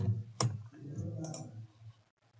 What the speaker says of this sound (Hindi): सेव पे क्लिक करते हैं